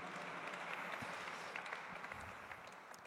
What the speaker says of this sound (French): Vous pouvez applaudir toutes ces personnalités, toutes les équipes de la Cité de la Réussite qui permettent cela